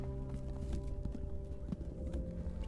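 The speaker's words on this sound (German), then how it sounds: "Hab ich da gerade was gehört? Schritte?" Steady footsteps with a hoof-like clip-clop in the CreatiVerse video game, repeating at a moderate pace under a constant tonal music bed, with no talking.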